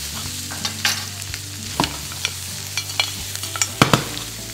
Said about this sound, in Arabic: كل نوع سمك عمالنا بنحطه في المقلاة بيعطينا رائحة جميلة جدا